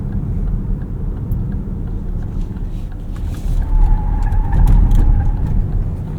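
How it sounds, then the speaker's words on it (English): Steady road and tire roar inside a moving 2026 Lexus ES 350e on 21-inch wheels, rising in loudness partway through as the car corners, with a low rumble throughout. "Not a lot of grip on these 21-inch wheels and tires. A lot of noise going around that corner."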